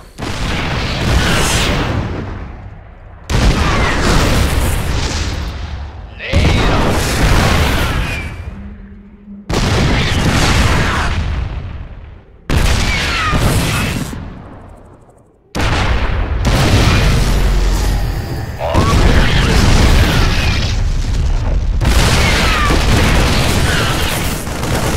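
StarCraft 2 siege tanks fire in siege mode, a series of eight loud, heavy booming cannon blasts spaced a few seconds apart, each with a rumbling decay.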